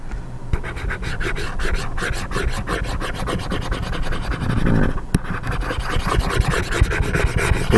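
Crayon shaded across paper to fill half of a graphed line, giving a continuous dry, scratchy rasp of quick back-and-forth strokes, close and steady throughout with no talking.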